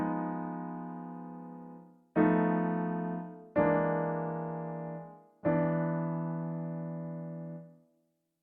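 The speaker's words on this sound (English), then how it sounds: "These morphing chords sound like this." Four sustained chords in Wagner's Tristan style, a morphing progression, are played one after another, each struck together and left to ring and decay, with no talking.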